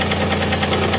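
Engine of a Daihatsu Xenia 1.0 car running in a short, steady stretch, a close, even mechanical hum with a faint rhythmic knock and no voices.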